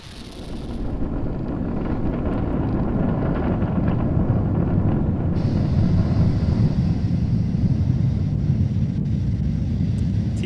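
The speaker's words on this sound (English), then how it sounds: "Falcon 9 and Dragon have cleared the tower" A SpaceX Falcon 9 rocket lifts off carrying a Cargo Dragon on a space station resupply run, its deep rumbling roar building quickly and then holding loud and steady, with no voices over it.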